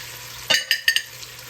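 Beef being seared in a pot: a loud burst of sizzling as the meat hits the hot surface, followed by two or three shorter sizzling flares over a faint steady hiss, with no talking.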